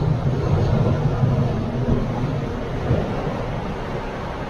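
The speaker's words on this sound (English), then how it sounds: "you can hear the sea outside because the tide's not that far away" Sea waves wash over gravel and pebbles on a beach just outside a tent, producing a continuous low roar and hiss with slow surges that swell and fade.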